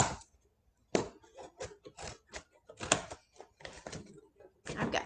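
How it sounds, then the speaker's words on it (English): Scissors chew through double-layered cardboard in a series of short, crisp snips and crunches with brief pauses between cuts, close by and fairly quiet. "And then we're going to use our scissors to cut out"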